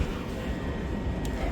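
A train rolls along in a continuous low rumble heard from close by, a steady rattling drone with no voices.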